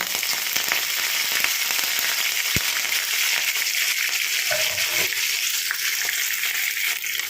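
Garlic and curry leaves fry in hot oil while raw mango chutney is made, giving a loud, steady sizzle with scattered pops and one sharp crackle. Brief clinks of a utensil come near the end.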